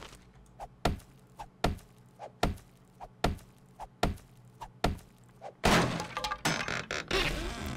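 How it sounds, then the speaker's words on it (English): Repeated blows break something open in the video game 7 Days to Die, with seven evenly spaced heavy thunks about every 0.75 seconds, then a louder burst of crashing, splintering debris at the end. "I'm gonna have to break this one open."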